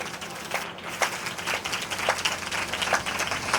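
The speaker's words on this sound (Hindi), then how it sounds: "तो फिर यीशु के लिए खुशी के साथ ताली बजाइएगा।" A church congregation at a New Year 2025 sermon meeting claps steadily for Jesus, with dense overlapping hand claps filling the room at moderate loudness and no voices on top.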